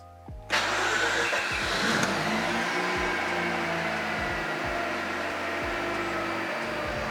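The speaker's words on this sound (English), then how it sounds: "The car is running." After a moment of quiet, a Mazda RX8 engine fitted with a Haltech Nexus plug-in ECU cranks briefly and fires up at about half a second. It then runs loud and steady nearby with a few small blips in revs and no voices.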